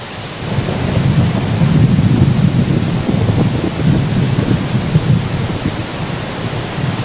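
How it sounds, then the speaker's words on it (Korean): Boulders tumble in the fast-flowing, glacier-fed Naryn river as it rushes down the steep Tien Shan slopes. The result is a deep, continuous, thunder-like rumble under a broad roar of rushing water, loud and sustained. "바위가 구르며 마치 천둥이 치는 것 같은 소리를 낸다."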